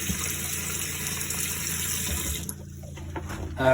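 Water runs from the tap into a campervan sink, a steady close splashing flow that cuts off partway through, leaving a quieter trickle and a faint pump-like hum.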